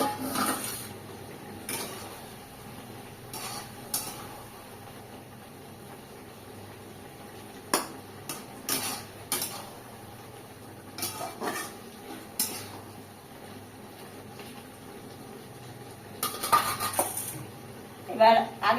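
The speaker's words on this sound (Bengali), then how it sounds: "এবার ঢাকনাটা আমি খুলে দেবো আবার।" Pots, pans and a lid clink and clatter in irregular bursts over a low kitchen hum while mung-bean posto cooks on a gas stove, the loudest knocks coming near the end.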